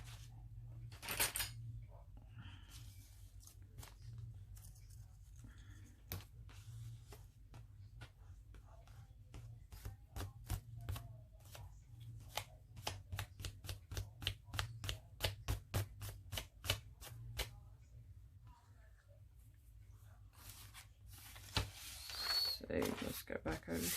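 Paper is fussy-cut by hand with scissors for an art journal collage: a quick run of close, crisp snips in a steady rhythm, quiet and up close over a low background hum.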